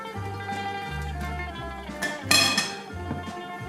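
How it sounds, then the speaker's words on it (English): A spoon scraping and clinking against a baking pan while stirring tourlou, a Greek baked vegetable dish, with soft scrapes and a brighter metallic clink, over a low background hum. "We're going to give it a really good stir."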